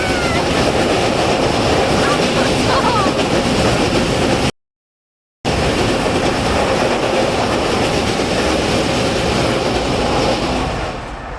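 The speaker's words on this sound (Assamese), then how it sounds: "এই ওপৰৰ ট্ৰেইন চাব দেই আপোনালোকে" A train rumbles steadily across a bridge above a river, a loud continuous roar of wheels and cars heard from below near the water, briefly cut off before resuming.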